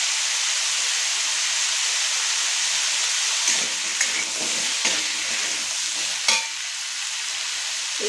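Ridge gourd with turmeric sizzles steadily in a frying pan, a continuous hiss broken by a few scraping stirs of a spoon partway through; no one speaks.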